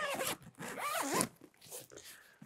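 A two-way zipper on a compartment of a Pentagon Consul 27 l backpack is drawn in a few quick, close, raspy strokes, with short pauses between pulls.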